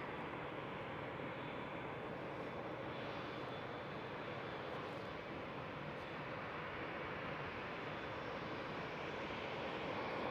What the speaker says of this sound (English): this KLM 787 is starting up, preparing for departure